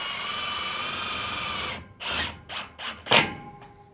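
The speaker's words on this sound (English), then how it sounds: "I'm going to screw right into that bracket with the self-tapper" A power drill drives a self-tapping screw into an aluminum porch railing bracket on a deck with a close, steady whine. It stops and then gives a few short bursts as the screw seats.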